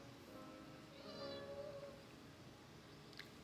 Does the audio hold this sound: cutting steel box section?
no